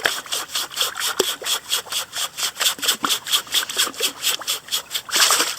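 Creek gravel and sand being shaken and swirled in a prospecting sieve while hunting sapphires in a northeast Tasmanian creek, a rhythmic rasping, gritty swish repeating about three times a second, close and steady, with faint water trickle.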